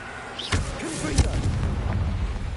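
Confringo blasting spell cast in Hogwarts Legacy, a sharp whooshing burst with a booming impact near the half-second mark, then a second punchy blast a moment later over a rumbling low game soundscape.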